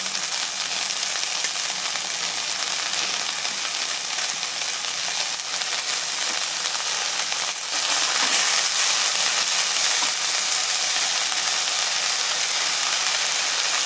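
Fenugreek greens with chopped onions fry in a pan, a loud, steady sizzle and crackle throughout with occasional stirring scrapes, growing slightly louder partway through.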